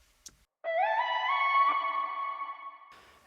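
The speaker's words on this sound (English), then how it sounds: "we have a reverb. This is obviously to add a lot of more room and more width to the sound." A synthesized music track drenched in reverb, a sustained chord swelling with wide, roomy tails that hang and slowly fade after a brief click at the start.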